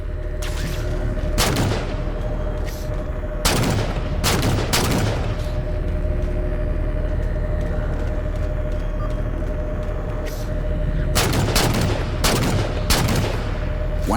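Bursts of loud gunfire in a Halo 4 battle, several clustered volleys of rapid shots separated by quieter stretches of steady engine-like hum and ambient drone, no voices.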